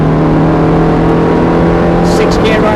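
A Ferrari F430 engine accelerates on the Thruxton race track, a loud continuous roar heard close from inside the car, with a voice talking over it.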